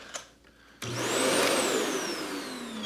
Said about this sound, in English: We're just going to vacuum one more time.